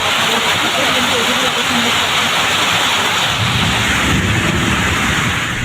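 Heavy summer rain pours down during a thunderstorm over a town in Tirunelveli, a dense, steady roar of downpour filling the whole stretch with low rumbling underneath and no clear breaks.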